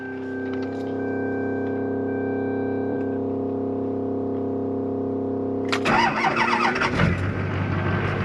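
A steady fuel-pump hum runs for several seconds, then a cold Duramax LLY diesel engine in a Chevy/GMC pickup cranks and catches with a loud, rough burst before settling into a rumbling idle.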